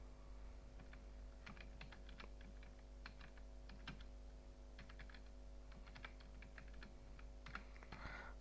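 Typing on a computer keyboard in a quiet room while entering names into an Excel billing sheet, a steady run of light clicky keystrokes with small pauses over a soft hum.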